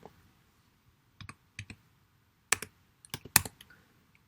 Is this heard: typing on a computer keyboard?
yes